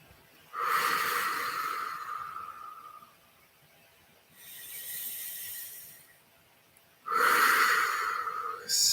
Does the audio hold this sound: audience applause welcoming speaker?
no